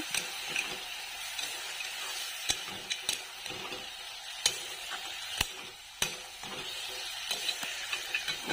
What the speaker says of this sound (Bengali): এখন ভালো করে নাড়াচাড়া দিয়ে